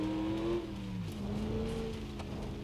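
A supercharged Gavril Bandito truck engine in the BeamNG.drive video game revs up, drops briefly, then climbs again with a whining, buzzing tone, moderately loud and alone.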